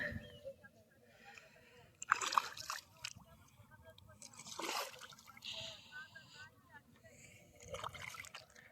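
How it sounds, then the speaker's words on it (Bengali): Muddy river water flowing with a current while people bathe nearby, heard as soft continuous trickling and sloshing with a few louder splashes, set under ongoing talk outdoors. "আর এখনো কিন্তু স্রোত আছে গাঙ্গের জলে, স্রোত এদিকে বয়ে যাইতেছে"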